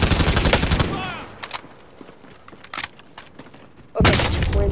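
First-person shooter gunfire, loud sharp bursts of rapid shots at the start and end with a few scattered single cracks in between, near and punchy, with a voice talking over it.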